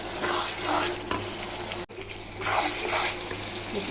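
Green chillies and a spoonful of sugar fry in hot oil for a garlic pickle, with a steady loud sizzle and scraping stirs throughout and a brief dip partway through.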